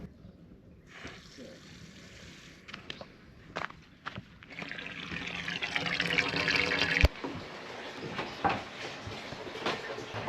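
Water gushes from a hose into a boat, starting with a faint trickle before rising to a steady, loud rushing stream with occasional knocks and splashes.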